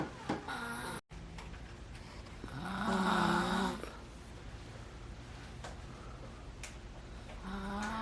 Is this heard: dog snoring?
yes